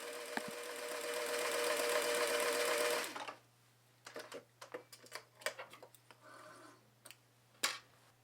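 Sewing machine running a zigzag stitch on knit fabric, with a steady fast loud whir for about three seconds, then stopping and leaving scattered faint clicks and handling noises.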